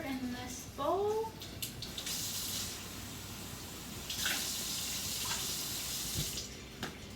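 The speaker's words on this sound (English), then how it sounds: "I'm going to put a half a cup of water in this bowl." Water pours from a tap into a bowl in a steady hissing stream, stopping and restarting in short bursts, with small clinks near the start.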